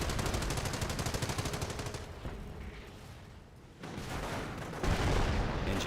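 Tank cannon and small-arms fire from a Company of Heroes battle between a Hellcat tank destroyer and Panzers: dense, rapid gunfire rattling for two seconds, then a quieter rumbling lull, then heavy bursts returning loud.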